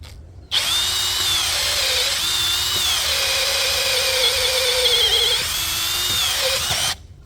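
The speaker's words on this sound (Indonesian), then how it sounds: "Saya menggunakan mata bor kayu dengan diameter 12 mili" A Dongcheng cordless brushless drill whines loudly and steadily for several seconds while drilling wood with a 12 mm wood bit, its pitch dipping slightly as the bit bites, then cuts off abruptly at the end.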